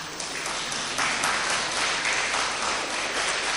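Dense, sustained clapping from a seated audience at a spiritual discourse by Pandit Vijay Shankar Mehta, a full and even wash of many hands lasting several seconds with no pauses.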